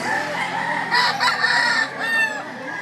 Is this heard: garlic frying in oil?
no